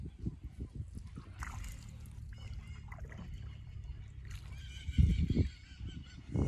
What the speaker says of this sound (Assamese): শব্দবোৰ শুনিছে চাগে ইয়াত চৰাইৰ মাত